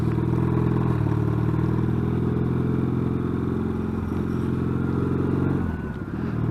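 A Yamaha XS650 motorcycle with new peashooter exhausts, heard while riding, gives a loud, steady, close engine drone that runs throughout and eases slightly near the end.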